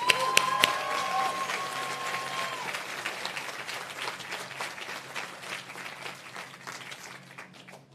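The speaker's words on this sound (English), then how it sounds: "Let's give Dr. Palares a warm Trojan family applause." Audience applause at a university white coat ceremony for pharmacy students, a sustained, dense wash of clapping from a large crowd in a hall that slowly tapers off.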